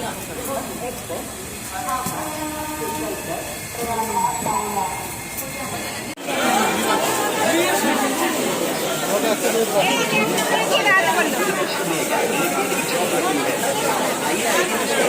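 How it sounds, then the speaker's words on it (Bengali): A train pulls into Varanasi Junction with a hiss and rumble, while passengers talk and chatter close by throughout, the crowd noise growing busier and louder partway through. "সো ফাইনালি এই যে চলে এসেছি আমরা বারাণসী জংশন"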